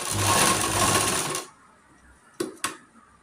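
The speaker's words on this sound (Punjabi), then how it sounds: "ਹੁਣ ਆਪਾਂ ਤੁਹਾਨੂੰ ਸੀਣ ਲਗਾ ਕੇ ਦਿਖਾਉਂਦੇ ਆ ਹਾਂਜੀ ਆ ਦੇਖੋ ਆਪਾਂ ਸੀਣ ਲਗਾ ਲਈ ਜੀ" A sewing machine stitches a seam on a round neckline for about a second and a half, a rapid close mechanical rattle, then stops, followed by two sharp clicks.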